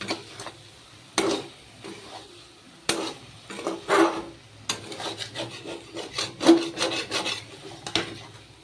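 A spoon scrapes and rubs around a pot of taro stolon (kochur loti) cooked with fish roe, giving a series of short rasping strokes and clinks, close and fairly quiet, with brief pauses between strokes.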